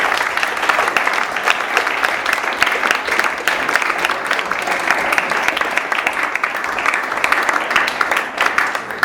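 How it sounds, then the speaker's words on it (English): An audience at an evening debate on the Arab revolutions applauds both debate teams, a dense, steady roar of many hands clapping that holds at full strength for the whole stretch. "Let's give them a round of applause."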